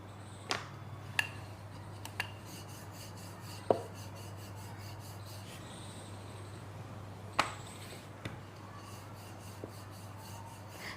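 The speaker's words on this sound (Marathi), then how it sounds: "हे असं लाटून घ्यायचं, तुम्हाला जेवढी जाड पातळ हवी आहे त्या हिशोबाने." Chapati dough rolled out with a rolling pin: a faint, soft rubbing with a few light wooden knocks and taps at scattered intervals in a quiet room.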